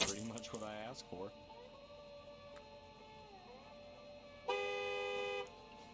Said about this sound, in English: What are they honking about now?